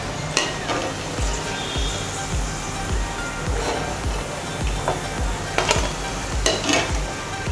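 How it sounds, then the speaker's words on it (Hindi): Sabudana vadas deep fry in hot oil, a loud, close, continuous sizzle with bubbling bursts and soft low thumps recurring throughout. "इसी तरीके से हम अपने सारे वड़ों को फ्राई कर लेंगे"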